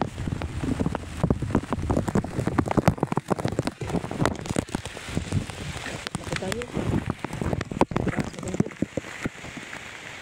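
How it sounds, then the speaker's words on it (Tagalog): Heavy rain pours down with a steady roar and patter of drops on a mountain road, while a person speaks briefly over it. "Malakas ang ulan guys, malakas ang ulan."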